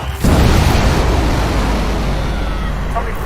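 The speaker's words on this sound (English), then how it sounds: "That was a huge explosion." A huge explosion in a strategy video game, a loud, deep roaring blast that hits within a fraction of a second and then rumbles on with sustained noise.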